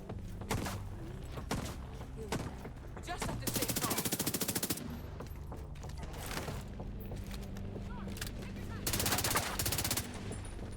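Video game gunfire aimed at the player, with long bursts of rapid machine-gun fire alternating with single loud shots and thuds, dense and close throughout.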